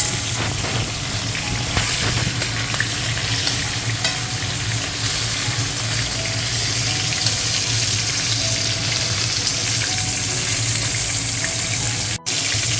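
Pieces of katla fish fry in hot oil, giving off a loud, steady sizzle with bursts of spatter and stirring that runs unbroken for about thirteen seconds. No one talks.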